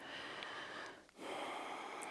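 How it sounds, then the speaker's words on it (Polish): Quick breathing after yoga exercises, close and fairly soft, made of sharp nasal inhales and exhales with a brief pause in the middle. "Ja mam jeszcze ten oddech przyspieszony po tych ćwiczeniach."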